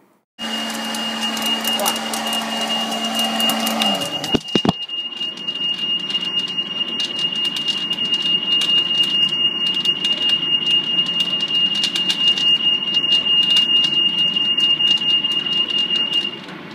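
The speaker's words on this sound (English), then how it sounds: "the cracking noise you can hear in the background is the coffee still cracking" Sharp, irregular crackling pops from roasting coffee beans scatter over a steady whirring hum, following a brief mechanical clatter and a shift in the background drone.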